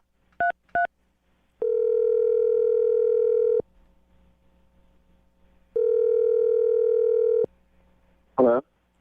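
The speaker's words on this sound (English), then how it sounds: "I'm going to dial his phone number right now and get him on the phone" Two quick keypad tones of a telephone being dialed, followed by two long, even ringback tones separated by a pause, then a brief warbling sound at the end, all close and clear with no talk.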